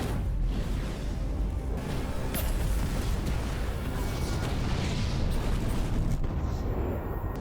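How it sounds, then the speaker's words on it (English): A huge explosion from a TV drama roars continuously, a dense, rumbling blast with crackling debris and whooshing that stays loud throughout. "That is a big explosion, that, isn't it?"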